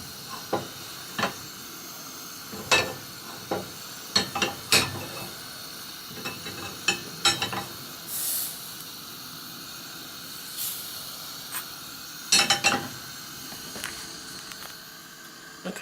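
Margarine melting and sizzling in a pan for a 1954-style beef curry, a soft continuous hiss broken by intermittent scraping and stirring clinks of utensil on metal, close and unaccompanied by speech.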